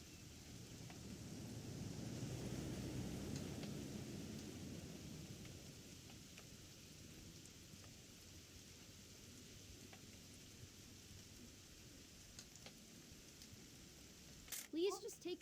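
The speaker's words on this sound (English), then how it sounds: "It's gonna rain the whole weekend, isn't it?" Rain and thunder in the video game What Remains of Edith Finch: a low thunder rumble swells early then fades into steady, soft rainfall, with a brief sharp clatter near the end.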